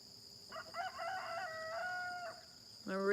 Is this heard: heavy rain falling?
no